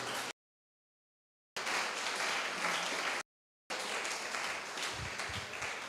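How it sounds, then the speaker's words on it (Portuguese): A church congregation applauds during a sermon with continuous, moderately faint crowd clapping, broken twice by brief total silences before resuming. "É para aplaudir, aplaude a Jesus."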